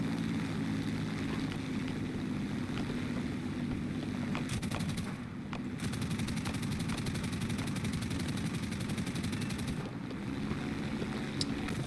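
Fiat CR.42 Falco biplane in War Thunder, its engine droning steadily and loudly throughout, with bursts of gunfire rattling in over the continuous roar.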